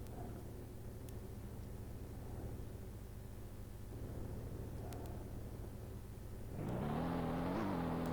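Ferrari engine in a car driving video game, a quiet steady idle hum that jumps into a louder rising rev near the end, with no talk.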